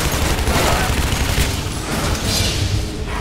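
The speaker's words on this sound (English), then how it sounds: "People are shooting at me and I can't see them" Dense, continuous gunfire in the Shadow Warrior shooter game, rapid overlapping shots and booms forming a loud barrage throughout.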